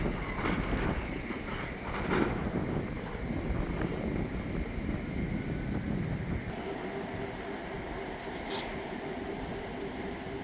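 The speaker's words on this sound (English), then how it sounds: "A little windy today." Wind buffets the microphone outdoors at a rainy rail yard in Pointe St Charles, a steady low rushing roar with the faint rumble of switching locomotives and railcars nearby.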